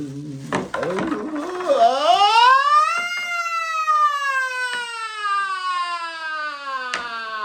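A single voice wails in a long, rising and gently wavering tone imitating a 1960s English ambulance siren, held loud and steady for several seconds.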